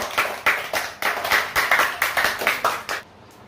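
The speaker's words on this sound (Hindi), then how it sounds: "तेज ताली बजाओ" A group claps in a brisk, steady rhythm for about three seconds, loud and close, then the clapping stops abruptly, in a tuition class after a math times-table competition.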